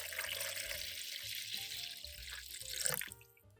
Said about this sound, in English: Then, wash the ginger with water.